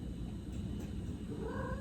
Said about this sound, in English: my cat has a toy and she's bringing it to me